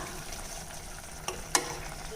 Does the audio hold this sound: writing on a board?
no